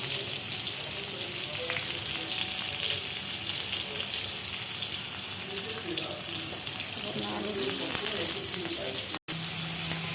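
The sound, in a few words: fish and onion frying in a pan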